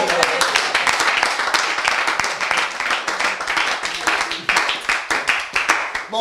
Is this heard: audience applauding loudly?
yes